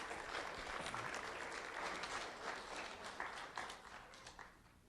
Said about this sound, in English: Let's have a round of applause for Mark Garno.